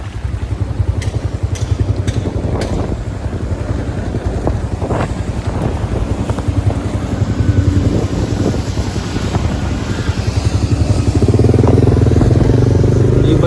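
A motorcycle (ATFX) rides through flood water on city streets in Manila, heading from Binondo to Tondo, its steady engine drone mixed with wind buffeting and water wash, growing louder toward the end.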